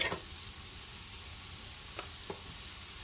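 Sliced mushrooms drop into a hot pan of sizzling vegan meat mixture, a steady frying hiss broken by a couple of soft, brief clatters near the end, fairly close and alone.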